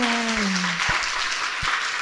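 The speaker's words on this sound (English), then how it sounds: "Would you join me in giving our speakers a round of applause?" A conference audience applauds its speakers, a steady wash of many hands clapping through the whole moment, with a brief low voice at the start.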